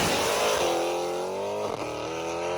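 Hellcat-swapped Honda Accord V8 running loud and close, a steady throaty engine drone with rich harmonics and a slight dip near the end, with no voices over it.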